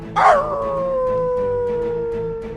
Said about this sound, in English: The last cheat is if a chain dies, Fenrir will howl